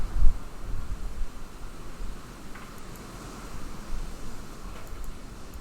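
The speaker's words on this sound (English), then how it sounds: "Really windy out here." Wind buffets the microphone in a steady broadband rush, with gusty swells and a few low thumps, no voices.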